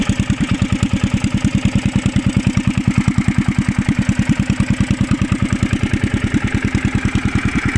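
The old petrol engine of a BCS three-wheel finger-bar hay mower runs steadily, a loud, close, rapid regular chugging pulse that holds an even rhythm throughout.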